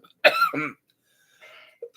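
A single harsh cough, close and loud, followed by a few faint breathy sounds.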